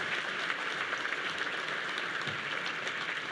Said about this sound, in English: Ladies and gentlemen, let's give all of our sponsors a big round of applause.